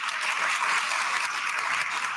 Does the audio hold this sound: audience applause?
yes